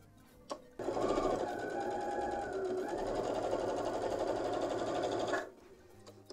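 A sewing machine stitches a quarter-inch seam on a quilt block, running as one steady, fast, close whirring burst of about five seconds after a brief pause, with no talking.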